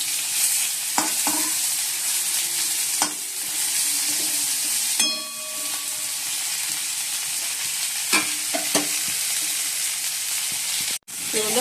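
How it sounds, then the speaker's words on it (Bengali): Cauliflower and potato frying in a pan with spices including tomato, onion, cumin powder and ginger, a loud close sizzle with intermittent stirring clatters and scrapes over the steady hiss. "ফুলকপি আলু দিয়ে দিচ্ছি, আর মশলার সঙ্গে ভালো করে কষিয়ে নিচ্ছি"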